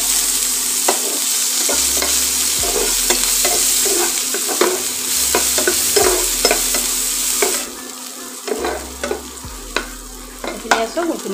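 Chopped onion, garlic and chillies sizzle loudly in hot oil in a pan while a spatula scrapes and stirs in repeated strokes, close by and without voices.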